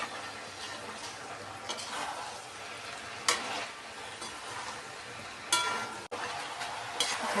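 Cooked vegetables for veg dum biryani stirred in a pot, a steady soft sizzle with several sharper scraping and clinking strokes of the spoon, close and alone without talk.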